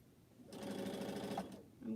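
A sewing machine stitches fabric quilt squares in a short, steady burst of rapid mechanical whirring lasting about a second, close and fairly quiet, with brief low handling noise around it.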